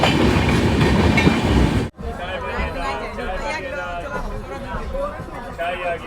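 A general coach of the Poorabiya Express rolls along with a loud, continuous rumble of wheels on track and rhythmic clatter, briefly cutting out before the steady rattle resumes, with faint voices in the background.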